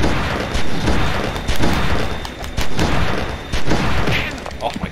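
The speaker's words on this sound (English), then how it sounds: "plasma gun." A plasma gun fires in the PS2 video game Oni, a rapid string of sharp, loud blasts, one after another, with a player's voice talking over them.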